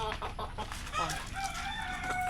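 Backyard chickens cluck in short, scattered bursts while a rooster lets out a drawn-out crow partway through, all fairly close with no talking.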